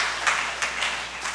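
An audience clapping in welcome at a church service: a few soft, scattered claps at a moderate distance over a brief stretch, with no talk.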